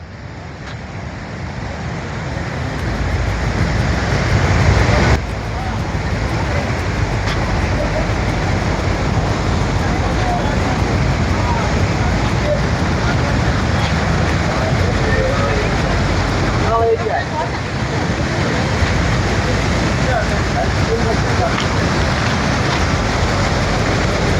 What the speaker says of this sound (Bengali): তোমরা শুধু জলের স্রোতটা দেখো, শুধু জল নামছে।